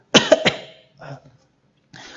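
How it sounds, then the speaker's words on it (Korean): A quick burst of two or three harsh coughs up close from a throat stung by chili powder, followed by softer throat sounds and a brief pause. "목이 따가워서 막 이게 기침을 하는 건데"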